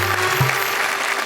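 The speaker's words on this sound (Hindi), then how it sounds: "जरा तालियां बजाइए" Studio audience clapping for a poet at a Hindi shayari show, a steady, dense wash of applause filling the short stretch at a fairly loud, even level.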